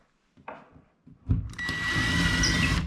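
A cordless power driver spinning up as it drives a screw into a wall to probe for studs, following a couple of soft taps, then a steady close whirring hum.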